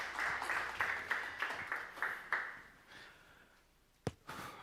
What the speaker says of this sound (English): So let's give it a big round of applause to Black Swan